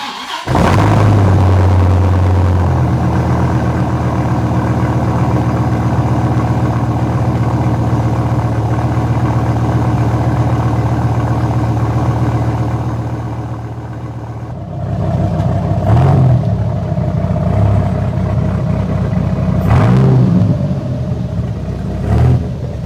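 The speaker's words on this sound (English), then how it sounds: "2001 Viper GTS, cold start." A 2001 Dodge Viper GTS fires up from cold, its engine roaring loud and close at a high idle before settling, then several sharp revs punch through near the end.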